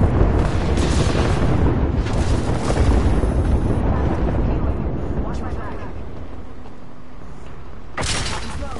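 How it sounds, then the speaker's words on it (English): Repeated explosions and booming blasts in the battle royale video game Apex Legends, dense and loud, rolling continuously with a fresh burst near the end, under a player's voice. "That's a lot of explosions."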